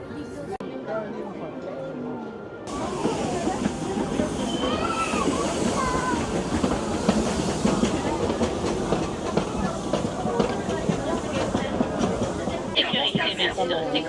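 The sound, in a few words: ride train at Disneyland Paris going into Pirates of the Caribbean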